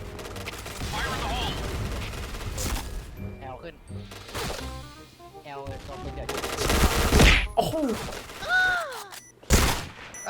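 Rapid gunfire bursts from a shooting game crackle through most of the clip, with a few sharper single shots and game effects underneath.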